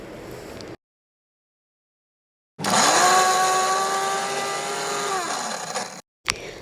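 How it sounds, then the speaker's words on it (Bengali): A kitchen mixer grinder whirs steadily for about three seconds while grinding cashew nuts and poppy seeds with yogurt, its pitch dropping slightly as the motor winds down, then a brief restart at the end. "পাশে আমি একটুখানি কাজু বাদাম আর পোস্ত বেটে নেবো দইয়ের সাথে।"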